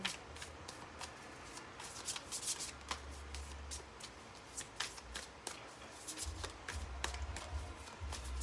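Tarot cards being shuffled by hand, a steady run of close, crisp riffling and flicking strokes with soft rubbing between them.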